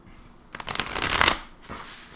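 A tarot deck is riffle-shuffled close by, a brief flurry of fluttering card snaps lasting about a second, then a softer rustle as the cards settle.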